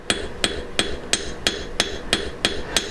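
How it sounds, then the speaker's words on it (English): Steel hammer striking silver wire on an anvil during forging, nine sharp evenly spaced ringing blows at a steady rhythm, close and clear with no talk. "Keep my hammer blows in the middle of the wire so it'll forge out evenly on both sides"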